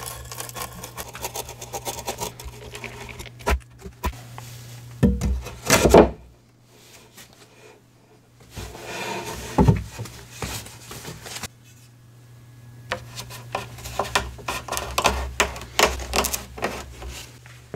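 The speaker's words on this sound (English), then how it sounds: "A little more hand drilling and we can get the hinge put together." Hand drilling into wood for a hinge, rough grinding and rasping in uneven bursts with a steady low hum behind and a few brief pauses.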